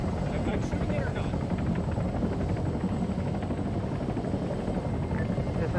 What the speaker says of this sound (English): Is that a hostile helo? There's two helos, enemy helo.